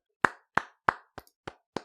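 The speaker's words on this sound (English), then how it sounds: "Get a round of applause for that one." Six sharp, separate hand claps sound close and isolated in a quiet room, spaced about a third of a second apart, the fourth a little softer with a tiny echo-like tap after it.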